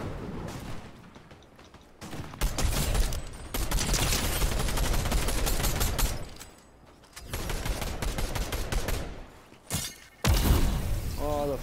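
Bursts of rapid video game gunfire, loud and close, come in several volleys separated by short pauses, with a few sharp cracks and thuds mixed in and voices talking briefly between them.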